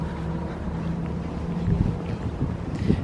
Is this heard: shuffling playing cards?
no